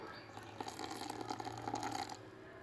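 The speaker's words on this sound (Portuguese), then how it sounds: "Primeiramente vamos colocar aqui a metade desse suco." Passion fruit juice pours into a bowl of cake batter and flour, a brief soft splashing trickle lasting about two seconds, faint and close.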